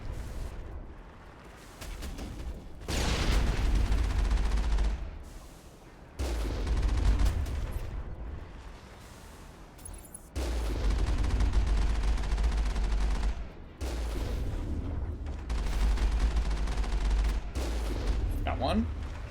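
Gunfire in the Mass Effect video game comes as repeated loud bursts of rapid shots with short quiet gaps between them. It stays close and sustained throughout.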